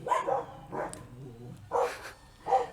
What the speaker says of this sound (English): trying to get my dogs inside because they're being the typical loud barking idiots